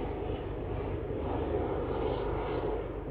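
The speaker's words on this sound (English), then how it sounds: "As the helicopter goes by" A helicopter passes overhead as a steady, broadband engine and rotor roar, continuous and moderately loud, with no talk.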